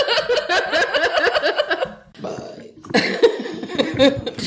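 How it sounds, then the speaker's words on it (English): A person burping, a long drawn-out belch with a rough rolling texture, then a short pause and a second burst mixed with laughter, close and loud. "You're back to burping?"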